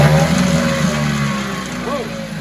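A 1974 Mercury 4 hp outboard motor starting, a loud close engine note with a brief rising whine near the end.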